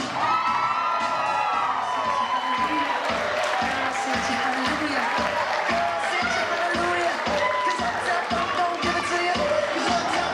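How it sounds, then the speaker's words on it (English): Wedding guests cheer, whoop and applaud for the flower girl at a wedding reception, a steady, loud crowd roar with shouting children over music with a driving, regular beat. "Give a nice round of applause for your flower girl, Jessa Lynn."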